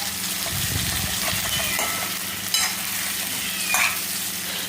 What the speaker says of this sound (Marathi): इथे छान मी वांगी परतून घेतली.